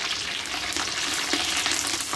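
Curry leaves hit hot oil already holding cinnamon, cloves and cardamom for a thalcha tempering, giving a loud, steady, close crackling sizzle throughout with no talk.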